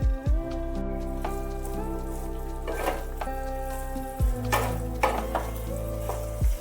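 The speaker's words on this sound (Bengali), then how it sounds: "এবার ভেজে রাখা বেগুনগুলো এর মধ্যে আমি দিয়ে দিলাম।" Fried eggplant pieces tipped into a spiced masala in a pan for baingan bharta, then stirred: steady low sizzle with scraping spoon strokes and clattering bursts, close and fairly loud, no talking.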